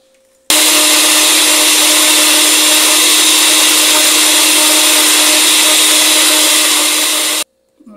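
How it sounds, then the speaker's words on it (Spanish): A kitchen blender whirs loudly and steadily for about seven seconds while blending oat crepe batter of eggs, sugar and flour, starting abruptly and cutting off near the end. "Vas a licuar esto perfectamente"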